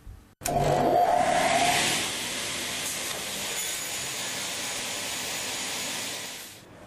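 An OMGA saw end-trims a loaded workpiece: a sharp onset sets off a loud, steady cutting roar with a brief whine, then it eases into a sustained mechanical whir that fades out near the end, with no talk.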